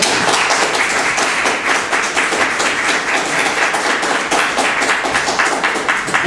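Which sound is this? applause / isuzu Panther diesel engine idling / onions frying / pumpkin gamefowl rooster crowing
applause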